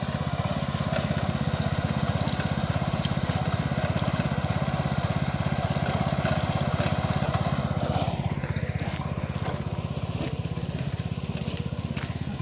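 A tractor ploughs a farm field, its engine chugging in a steady, loud, unbroken drone close by.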